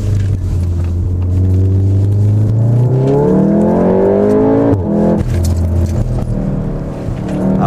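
A VW Golf 7 R accelerates hard, its engine note loud and close, climbing steadily in pitch through the gears with a brief dip at a shift before pulling again, a continuous rising roar.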